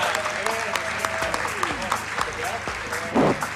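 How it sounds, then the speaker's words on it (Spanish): An audience at an awards ceremony claps, with uneven clustered hand claps and a voice speaking over the applause. "así que amerita un aplauso."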